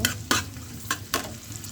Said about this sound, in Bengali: দিয়ে দিচ্ছি পেঁয়াজ পেঁয়াজটা আমি নেড়ে করে নেব